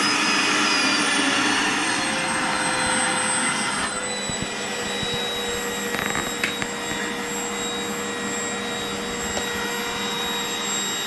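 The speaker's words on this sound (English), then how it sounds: "are you hoovering for me? Are you doing the hoovering?" Vacuum cleaner running steadily throughout as a child does the hoovering at home, a loud continuous whine and roar with small bumps and shifts in tone, no talk.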